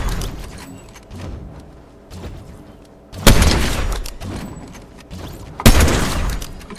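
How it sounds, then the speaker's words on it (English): Sniper rifle firing in a video game, two loud sharp booming shots a couple of seconds apart, each with a long ringing tail, between quieter shuffling sounds. "Grab the sniper. And practice your accuracy with that."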